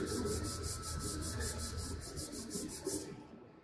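A soldering iron is scrubbed with a red Scotch-Brite pad, giving a steady, close, rasping rub that runs continuously for several seconds with rhythmic strokes, then stops abruptly at the end.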